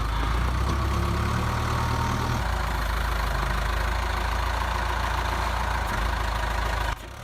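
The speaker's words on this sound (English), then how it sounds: "Hydraulic wood shear and splitter." Engine of a hydraulic wood shear and splitter running at a steady idle, a continuous low rumbling drone with faint knocking, close and fairly loud, which drops in level abruptly near the end.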